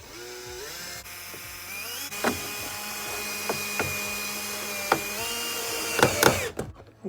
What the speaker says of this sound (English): So just gonna screw them in here.